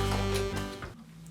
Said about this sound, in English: One is known as a half-whole diminished scale,